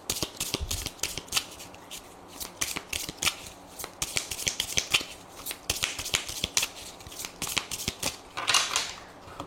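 Tarot cards shuffled by hand in a quick, dense run of crisp riffling clicks and flutters, close and fairly loud, with brief pauses between bursts and no talking.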